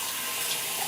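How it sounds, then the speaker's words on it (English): Water poured into a Saladmaster stainless steel cooking pot while making country soup, a brief, steady, close splashing rush heard without talk. "I'm going to put a little bit more water in there."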